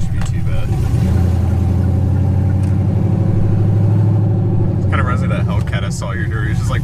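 A cammed Chevrolet Silverado pickup with open headers idles loudly in a steady low rumble throughout, close by, with a brief throatier burst near the end and faint voices underneath.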